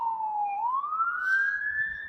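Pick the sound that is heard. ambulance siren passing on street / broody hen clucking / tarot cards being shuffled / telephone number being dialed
ambulance siren passing on street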